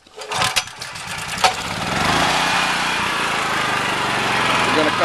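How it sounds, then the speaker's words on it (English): A Honda EM 5000S generator is pull-started with a few short recoil yanks, then catches on the first pull and settles into a steady, close engine drone that runs to the end. "We're going to restart this again. Again, it's a Honda, so a first pull."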